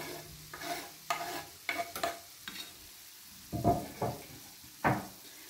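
Chopped parsley is stirred into a cooked filling in a pan with the heat turned off, producing a handful of separate scraping spoon strokes with faint sizzling, close and fairly quiet, without talking.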